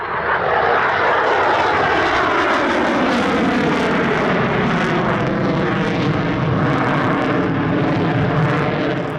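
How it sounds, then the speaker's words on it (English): A Lockheed F-22 fighter jet roars loudly during an abrupt high-alpha pull to the vertical at the Australian International Airshow, a dense, continuous engine rumble and rush with a slowly sweeping pitch. "The F-22 demo team call this a Cobra"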